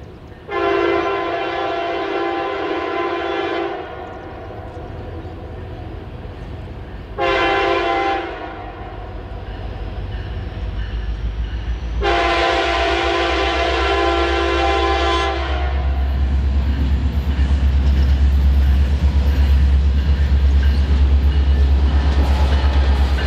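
A Norfolk Southern hazmat safety train with first responder units sounds three loud horn blasts, long, short, then long, while its locomotives rumble past near the main line and the low roar of the passing cars keeps building.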